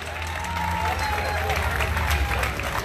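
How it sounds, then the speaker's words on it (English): An audience claps at a concert, a steady, moderately loud wash of applause with a low hum beneath and some voices mixed in. "Can a round of applause again, please?"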